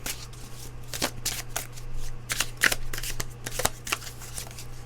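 Oracle cards being shuffled by hand, a rapid run of crisp riffling and flicking bursts close up, repeated in quick succession.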